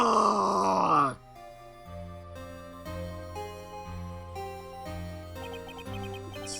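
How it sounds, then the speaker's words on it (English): A loud, strained scream in the video game Phoenix Wright: Ace Attorney fills the first second, then cuts off into quieter sustained game music. "It's that scream I heard in the elevator."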